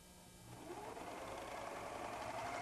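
A White Superlock 634D serger sews piping, its fast mechanical whirring starting softly and building to a steady hum over a few seconds, with no talking.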